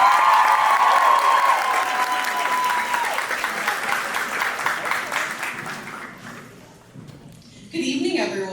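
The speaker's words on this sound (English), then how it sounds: "So give a round of applause for Blue Jays and Poets." A university audience at a fashion show claps and cheers loudly for a poetry club, the applause filling the room and slowly fading out before a voice begins speaking near the end.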